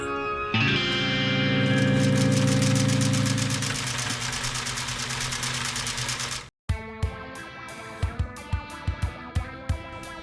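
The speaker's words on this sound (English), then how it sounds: "the first step is sewing each of the t-shirt graphic panels to the non-stretchy black substrate panels" A sewing machine stitches t-shirt graphic panels onto non-stretchy black backing fabric, running at a loud, steady hum for several seconds, then stopping briefly before a few short, separate bursts of stitching.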